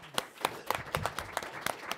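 A small audience gives a short, sparse burst of applause for speakers at a panel event, separate claps close together and fairly quiet.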